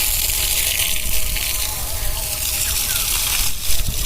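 Pipe water gushing onto young areca palm seedlings in a sunny garden, a loud continuous splashing and sloshing stream up close, with brief faint voice underneath.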